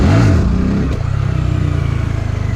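A Honda Grom motorcycle engine revs up loudly, then settles into a rough, throbbing idle, close by.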